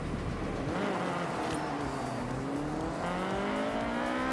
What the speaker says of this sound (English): It might be an arcade game, but they got the VTEC sound right.